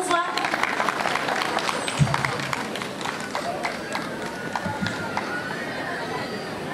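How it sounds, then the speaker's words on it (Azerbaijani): A crowd claps at an outdoor 15 June National Salvation Day ceremony in Neftchala, a dense, sustained patter of applause with a voice over it. "Gürültülü alqışlarınızla."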